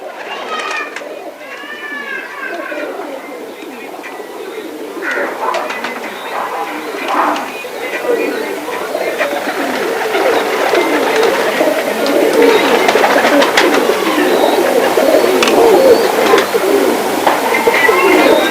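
Many pigeons coo in a loft, a dense overlapping chorus of soft throaty calls that swells and stays steady, with voices of people talking faintly underneath.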